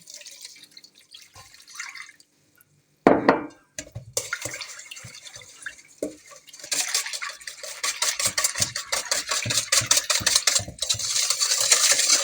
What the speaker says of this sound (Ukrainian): Мішаємо, щоб наші дріжджі розійшлися в молоці